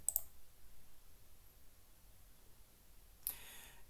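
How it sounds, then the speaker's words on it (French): Two faint, sharp mouse clicks sound in a quiet room, one at the start and another about three seconds later, as the Create button is pressed in invoicing software. "Vous pouvez alors cliquer sur Créer."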